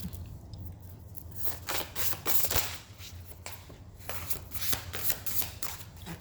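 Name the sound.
shuffling crystal cards before pulling one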